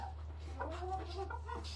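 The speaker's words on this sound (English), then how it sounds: "I only have one rooster in here, and the rest of them are hens" In a coop holding one rooster and several hens, soft clucks and brief calls come through faintly over a steady low hum, close by and scattered.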